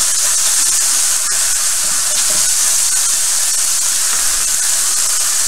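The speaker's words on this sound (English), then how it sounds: "So I'm going to stir it around a little bit to get some of that garlic off the bottom because we don't want to burn it." Garlic and onion fry in a pan with a loud, constant, close hiss that runs the whole time, and faint stirring can be heard underneath.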